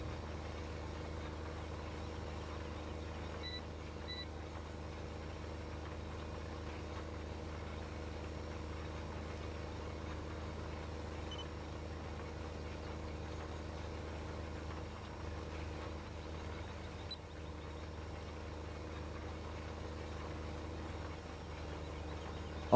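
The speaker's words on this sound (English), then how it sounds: "The amount of horsepower this tractor has and the amount of horsepower required to pull the planter." Tractor engine in Farming Simulator 15 pulling a planter, a low steady drone that stays even throughout, with no speech over it.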